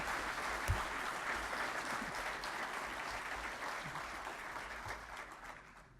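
Sustained, even crowd applause fills a hall at a Colorado State University honors commencement ceremony as graduates are announced, holding steady before tapering slightly at the end.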